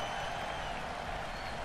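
Steady roar of a video game arena crowd cheering during a WWE 2K18 women's wrestling match, a dense continuous wash of noise with no breaks.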